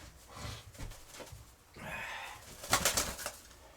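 Pigeons being fed nearby, soft low cooing and snorting calls mixed with a short rush of flapping wings and scattered pecking taps, faint and close.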